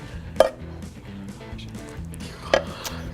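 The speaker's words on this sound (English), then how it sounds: "Run the knife through them." A knife chops through mushrooms on a cutting board, giving two crisp, fairly quiet cuts spaced about two seconds apart over a low background hum, with no voices.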